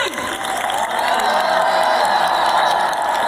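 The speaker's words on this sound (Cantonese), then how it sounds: "修哥，呢個 swing 係屬於你嘅，俾大個掌聲，歡呼聲。" At a concert, a large crowd applauds and cheers continuously during an award ceremony for a Guinness world record, a dense roar of clapping that swells and holds steady.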